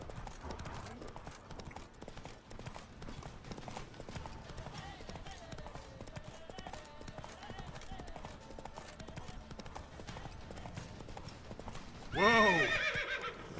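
Geralt's horse Roach in the video game Witcher 3 trots with steady clip-clopping hooves under ongoing talk, then lets out a loud neigh near the end.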